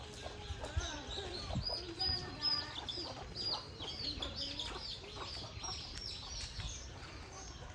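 A rooster and hens cluck and call near a village house beside fields, giving intermittent clucks and chirps over a steady outdoor background with light talk in places.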